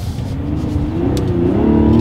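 A 2024 Mazda CX-90 Premium Plus SUV pulls hard in first gear in sport mode as the paddle shifters are tested, its engine note climbing steadily in pitch and growing louder over two seconds, with no voices.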